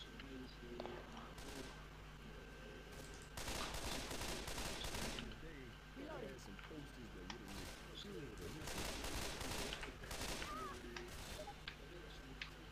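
Gunfire in the zombie shooter Left 4 Dead 2, including a pump shotgun, crackles in repeated loud bursts and rapid volleys, with game ambience running steadily underneath and voices faintly mixed in.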